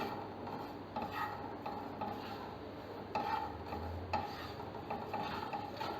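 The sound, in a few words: stirring spices while dry roasting them in a pan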